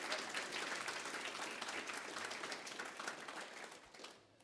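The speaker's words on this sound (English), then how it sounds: "Can we have one more round of applause for both Amanda and David?" Applause from a conference audience at an emergency care gathering, a steady dense clatter of many hands filling the room, fading out toward the end.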